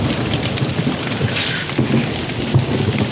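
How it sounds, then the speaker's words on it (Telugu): Heavy rain pours steadily in a forest, a dense close hiss with low thunder rumbling underneath. "వర్షం పడుతుంది ఉరుములు మెరుస్తున్నాయి"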